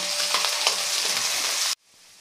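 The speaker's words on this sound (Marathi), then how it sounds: "कांदा आपल्याला हलकासा गुलाबी रंगावर परतून घ्यायचा आहे" Finely chopped onion fries with spluttered mustard seeds and cumin in a pan for sprouted moth bean curry, a loud, close sizzle with stirring scrapes that cuts off abruptly to near silence.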